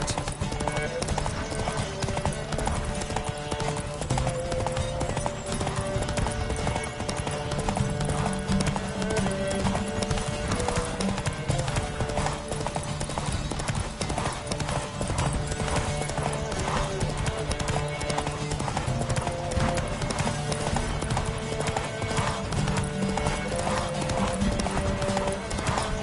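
Horse hooves gallop in The Witcher 3 video game, a fast continuous clip-clop under game music that carries on without pause throughout.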